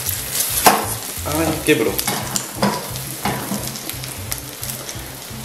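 A mortadella and tomato omelette frying in a pan, a steady crackling sizzle with scraping and stirring knocks, and a voice speaking briefly over it.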